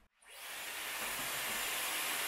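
Dyson Airwrap hair styler switched on, drawing a section of hair onto its barrel: a steady, loud airy rush that kicks in after a brief silence and holds constant to the end.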